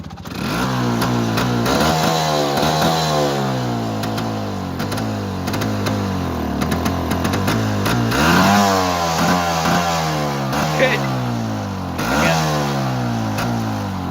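A Bajaj Chetak scooter engine revs hard and repeatedly nearby on open ground, pitch rising and falling in loud surges, with a few sharp backfire pops mixed in.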